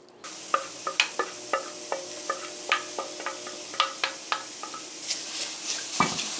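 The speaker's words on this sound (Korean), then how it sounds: "이렇게 무나물을 볶아줄 건데요" Radish greens stir-fry in a pan with sesame and perilla oil, a soft constant sizzle under a regular series of sharp spatula taps and scrapes against the pan, roughly two per second, close and clear.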